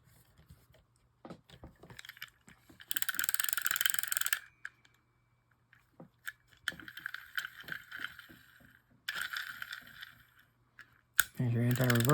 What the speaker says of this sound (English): There's your anti-reverse on, which these things got to have the noisiest, ugliest anti-reverse I've ever seen